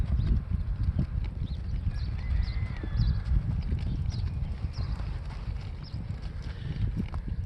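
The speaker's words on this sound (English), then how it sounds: "I like to see a horse organize its feet like this and know where he's putting his feet down." A Haflinger horse's hooves step carefully over trail-training obstacles, close and distinct, with an irregular clip-clop of footfalls on firm ground and no one speaking.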